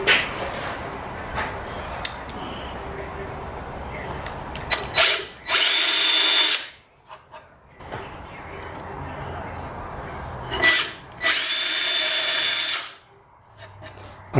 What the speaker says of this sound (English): I'm going to pre-drill the holes for the side mounting, and to do this I'm going to use this tapered bit